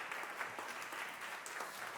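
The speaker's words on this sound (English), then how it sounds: "Let's give him a big round of encouragement applause" Audience applause at a summit talk, a steady patter of many hands clapping throughout, fairly quiet and even with no voices over it.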